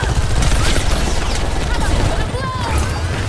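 Rapid gunfire from the video game Overwatch 2, dense and loud throughout, layered with crashes and game effects while a player talks over it.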